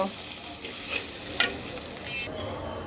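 Ground turmeric, coriander and cumin frying in a pan for a catla fish curry with potatoes: a continuous close sizzle with a few sharp scraping stirs of a spoon against the pan.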